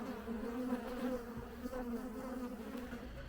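Bees swarming around an open hive during an inspection, a steady, loud droning buzz that stays close and continuous throughout, with no voices.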